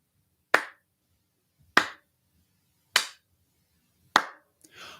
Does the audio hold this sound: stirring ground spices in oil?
no